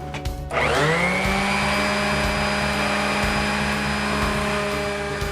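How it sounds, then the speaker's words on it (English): An orbital sander clamped tightly into a workbench spins up after a brief click and then runs steadily, a loud continuous motor whine with a strong hum that holds without change to the end. "So the orbital sander was locked in here pretty tight."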